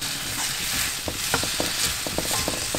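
Vegetables with tomato fry in a pan for vegetable rice, a steady close sizzle broken by irregular scraping and clinking of a stirring spoon.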